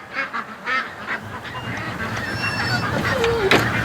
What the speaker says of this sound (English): The ducks and the dog are going nuts with the wind